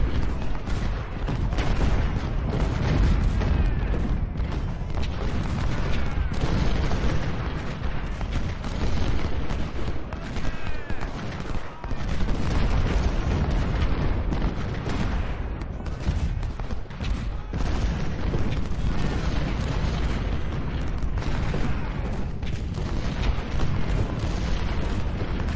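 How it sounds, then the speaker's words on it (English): Gunboats pounding away with artillery in Ultimate General: Civil War at the Battle of Shiloh, a steady barrage of booming cannon shots and rolling explosions lasting throughout, loud and dense with no voices. "Gunboats are firing away here."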